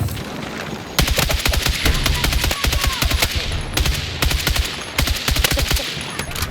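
Rapid bursts of automatic gunfire in the video game Battlefield 6, loud and close, firing in dense rattling volleys with brief pauses between strings of shots and heavy low booms underneath.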